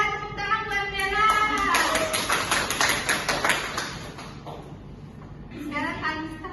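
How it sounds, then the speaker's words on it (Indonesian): Children clapping for a classmate in a class, a brisk burst of many quick claps lasting a few seconds, with children's and a teacher's voices before and after it. "Tepuk tangan buat Bella."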